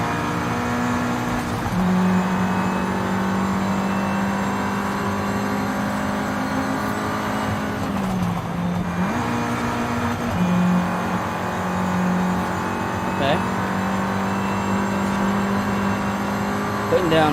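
A 2014 Volkswagen Golf R drones loudly and steadily under hard acceleration while racing, its engine note holding a strong tone with brief shifts in pitch, and a voice speaks intermittently over it.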